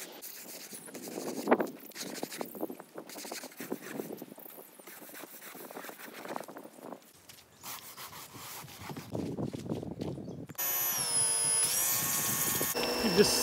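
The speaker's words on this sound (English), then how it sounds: "Got a nice stiff brush, and we're gonna scrub it down" Stiff brush scrubbing down a surface with rough, irregular rasping strokes, fairly faint and mixed with a voice talking, before a loud steady mechanical whine takes over near the end.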